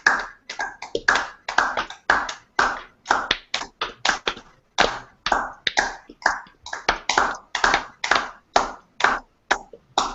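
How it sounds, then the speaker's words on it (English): A group claps together in a session built around clapping and chanting, producing steady, fairly close rhythmic hand claps that keep going for about ten seconds with short pauses between bursts and no voices over them. "So let us all clap."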